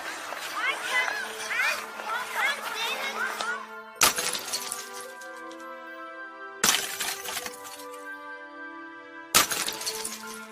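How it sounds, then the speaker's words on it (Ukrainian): An icicle falls and breaks: three sharp cracking, shattering impacts at roughly even intervals, each followed by a long bright ringing decay, after a stretch of busy voices and tones. "Бурулька, що впала."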